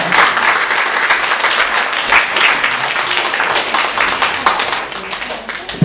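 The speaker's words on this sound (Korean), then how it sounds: "다 같이 박수로 축하하겠습니다." A church congregation at a Sunday worship service breaks into loud, sustained applause for birthdays, dense clapping from many hands filling the room for several seconds.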